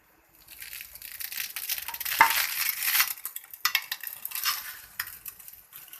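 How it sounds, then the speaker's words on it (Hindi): Dry spaghetti snapped in two by hand before boiling for chicken chow mein, a close crackling crunch with brittle splintering and rattling of the strands, no talking. "ये हमने स्पैगेटी निकाल ली और हम इसको ब्रेक कर लेंगे"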